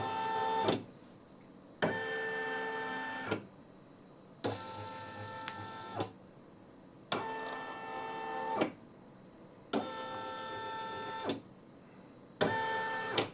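Brother PE900 embroidery machine moving its hoop to trace a design, repeated motor whirs in on-off cycles of about two seconds each, separated by short pauses, close and without talking.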